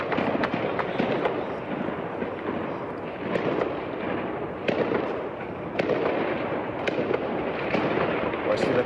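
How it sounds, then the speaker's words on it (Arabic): Heavy gunfire during violent clashes in western Gaza: sustained, crackling bursts with sharp distant cracks throughout and a reporter speaking over the shooting. "إطلاق نار كثيف جدا الآن، إطلاق نار كثيف جدا"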